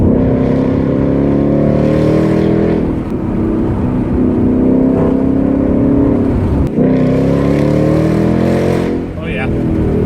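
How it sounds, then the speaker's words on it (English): A Ford Mustang GT with a Roush axle-back exhaust makes a loud, steady growling rumble that holds for the whole stretch, with brief dips in pitch before it climbs again. There is no speech. "I love the growling, rumbling engine of the Mustang GT, especially when I put those Roush axle backs on the back."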